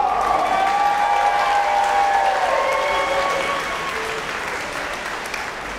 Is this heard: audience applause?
yes